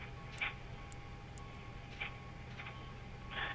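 Low steady background hum with a faint tonal drone and a few soft distant chirps and beeps spaced apart, a quiet ambient bed with no talking; airport ground environment in the X-Plane 11 flight simulator at Denver (KDEN).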